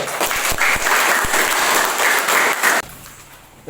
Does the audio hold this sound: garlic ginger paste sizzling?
no